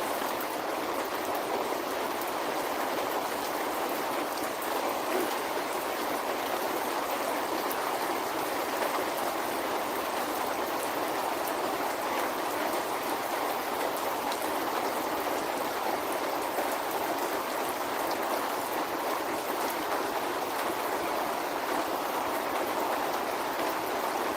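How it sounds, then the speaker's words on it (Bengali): Heavy rain pours down steadily in a broad, even hiss, constant and moderately loud throughout with no voices. "এত পরিমাণে বৃষ্টি হচ্ছে"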